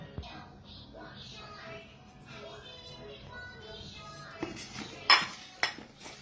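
Okra being mixed in a bowl with spices, rice flour and cornflour, soft shuffling and stirring with a few sharp clinks of utensil against the bowl near the end, quiet and close.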